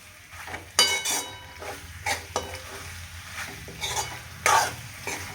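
A spatula scrapes and stirs masala pasta with tomato ketchup and coriander in a pan over medium gas, in several separate bursts, with a faint sizzle running underneath.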